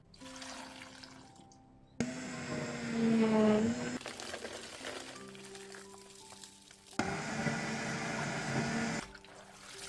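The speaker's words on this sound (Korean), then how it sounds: "믹서기에 재료를 모두 넣고 감초물 부어서 갈아줍니다." Two bursts of a blender motor whirring and grinding kimchi seasoning ingredients with licorice-root water, each running a couple of seconds, separated by quieter clattering, heard close up without talk.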